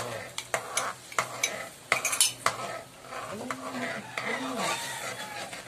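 A cornstarch and water slurry being stirred into a simmering sauce, with utensil clinks and scrapes against the pot in an irregular rhythm and voices talking nearby.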